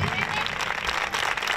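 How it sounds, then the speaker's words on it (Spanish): Applause for the players at an end-of-season youth football trophy ceremony: a brief burst of steady crowd clapping heard close and even throughout. "me gustaría que dedicaréis un aplauso a los jugadores por la temporada que han hecho"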